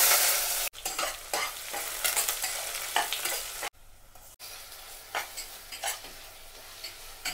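Chopped ingredients for avakaya fried rice being stir-fried in a pan, a continuous loud sizzle broken by repeated scraping and tossing of a spatula, close and busy, with no talking.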